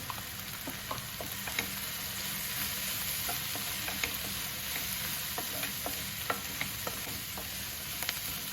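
Sweetcorn sandwich filling frying with turmeric in a pan, a continuous bright sizzle with occasional light stirring taps, close and steady without talk.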